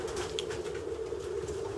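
Pigeon cooing softly, a low steady coo running throughout under faint background noise and a few light taps.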